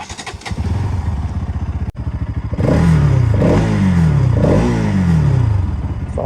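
A Bajaj Pulsar NS200 motorcycle cranks, catches and settles into a loud, close idle, then is blipped through several rising and falling revs, with no talking over the engine.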